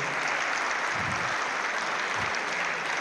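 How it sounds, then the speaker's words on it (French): Audience applause at a French youth football coaching clinic, a steady wash of clapping across the whole stretch with a few low thumps beneath. "on peut les applaudir parce que c'est pas forcément évident"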